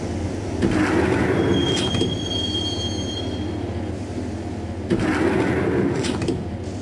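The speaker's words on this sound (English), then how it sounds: "the train doors had already shut behind me, and I was in for the ride" Train ride in the Max Payne video game after the doors shut: a steady rumble of wheels and carriage, with shrill squeals from the rails and a whining tone, loud and continuous without talk.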